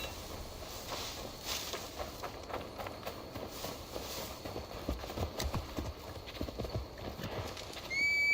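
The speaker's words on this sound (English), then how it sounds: "Now to deliver Magni his horse." Horse hooves clip-clop steadily at a run in Assassin's Creed Valhalla, with a loud whinny and game ambience throughout, growing louder near the end.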